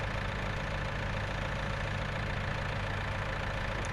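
NMC Griffin John Deere tractor mod in Farming Simulator 19, engine idling steadily with a constant low throbbing drone and no other sounds.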